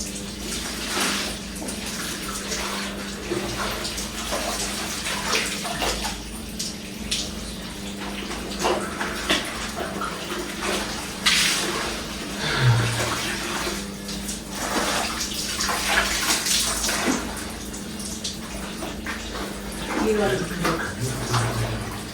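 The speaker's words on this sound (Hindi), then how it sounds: "सुबह के टाइम सर्दी में कपड़े धोना कितना मुश्किल होता है हाथ से" Clothes are washed by hand on a cold winter morning, with continuous splashing, sloshing and wringing water close by and scattered knocks, while someone talks over it throughout.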